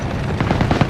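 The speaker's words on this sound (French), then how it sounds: "Tir d'armes légères, ils attaquent les nôtres." Small arms fire crackles in a World War II battle game, a short burst of rapid rattling shots close by.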